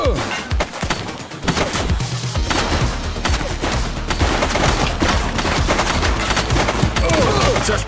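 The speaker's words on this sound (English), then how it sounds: "She's shooting!" Sustained heavy gunfire in The Precinct, with loud rapid bursts and overlapping shots filling the whole stretch and scattered sharp cracks and thuds throughout.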